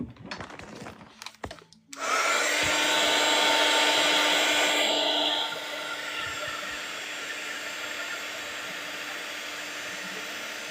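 Hair dryer drying a watercolor Christmas card painting, switched on after a few soft handling knocks, a loud steady close whoosh that drops to a lower setting midway and continues alone.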